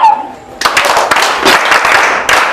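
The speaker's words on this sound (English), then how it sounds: "Say clap for her." Schoolchildren clapping for a teacher: after a short pause, a burst of loud, fast, uneven clapping from many hands starts and carries on close by, with a fresh surge near the end.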